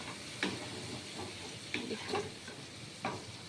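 Food sizzles softly in a pan while being fried for a shahi paneer paste, with a few quiet stirring scrapes over a low steady hiss.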